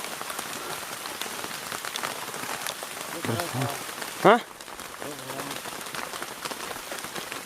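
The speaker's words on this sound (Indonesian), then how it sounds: "Hujan." Heavy rain pours steadily onto surfaces in a chili field at harvest time, a dense hiss that goes on through the whole stretch, with a few short spoken words and a brief louder knock near the middle.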